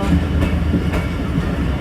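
A Pakistani passenger train rolls over waterlogged tracks during a monsoon downpour as it approaches Gujranwala station, a loud, close, continuous rumble with faint rhythmic wheel clacks.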